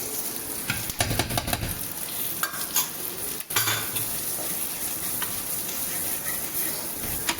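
Curry leaves, Kashmiri chilli powder and turmeric stirred and sizzling in a pan for a rajma curry, with a steady frying hiss, scraping spoon strokes and occasional clinks of metal cookware, close and alone.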